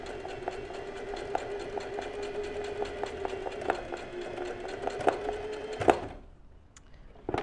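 Domestic sewing machine embroidering with a straight stitch, running steadily with a fast, even mechanical clatter and faint periodic ticks, moderately quiet and close, before it stops abruptly near the end.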